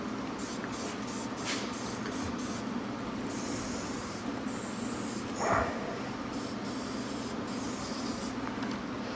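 Candy apple paint is sprayed onto a repaired CAT 627 bail, a continuous close hiss with slight pulsing, steady throughout and with no talking.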